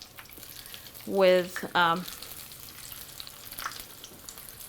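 Chile rellenos fry in hot grease with a steady crackling sizzle throughout; a brief voice cuts in over the frying.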